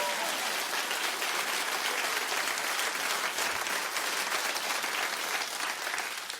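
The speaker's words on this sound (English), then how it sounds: "Clap it like you mean it." Loud, dense applause from a daytime talk-show studio audience fills the room, a sustained roar of many clapping hands that holds steady throughout before cutting off abruptly.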